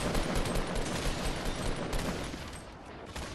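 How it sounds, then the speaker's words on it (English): Sustained loud gunfire in Fortnite, including a grenade launcher firing, with a dense wash of shots and blasts filling the scene with hardly a break. "Grenade launcher at you!"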